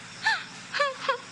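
A granddaughter crying, three short wailing sobs that rise and fall with gaps between them, close and moderately loud against a quiet background.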